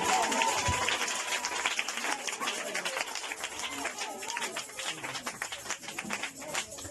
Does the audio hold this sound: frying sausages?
no